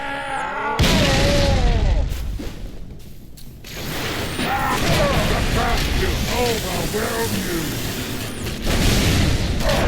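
Grenade blast in Halo 3 ODST, a heavy boom near the start followed by rumbling combat noise and mechanical clatter, with chirping alien voices in the mix.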